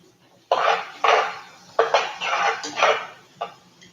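Onions dropped into a pan of melted butter set off the heat: a handful of distinct clattering, sizzling bursts as pieces land, close and fairly loud, separated by short pauses.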